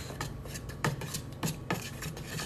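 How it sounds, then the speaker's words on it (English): Grain-free, gluten-free pancake batter being mixed in a bowl, with repeated scraping and rubbing strokes of a utensil and a few sharper clinks against the bowl, close and fairly quiet. "What you want to do is you want to mix it together"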